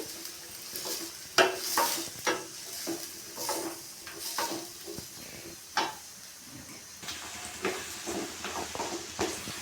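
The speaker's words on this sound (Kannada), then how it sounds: "ಈರುಳ್ಳಿ ನೋಡಿ ಚೆನ್ನಾಗಿ ಫ್ರೈ ಆಗಬೇಕು ಕಲರ್ ಚೇಂಜ್ ಆಗಬೇಕು ಅಲ್ಲಿವರೆಗೂ ನಾವು ಈರುಳ್ಳಿನ ಫ್ರೈ ಮಾಡ್ಕೋಬೇಕು" Sliced onions fry in an oil-filled pan with a continuous close sizzle, broken by regular scraping strokes of a spoon stirring them through the fat.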